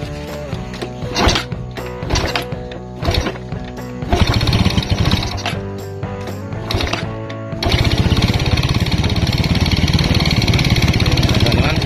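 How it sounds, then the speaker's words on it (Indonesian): A stalled motorcycle engine, kick-started after repair, catches and runs with a loud, rough putter that steadies into a constant close idle, with someone talking over it. "motornya sudah bisa hidup ya"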